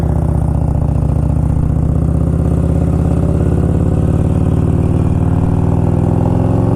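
A cold 1992 Harley Davidson Electra Glide Sport motorcycle engine runs loud and close, a steady rhythmic low-pitched thumping idle that holds even throughout.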